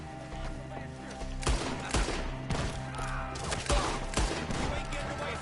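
Gunfire in the Red Dead video game during an ambush by gang members in the trees: a loud volley of sharp shots, several close together, over a steady musical drone, with a voice shouting amid the battle.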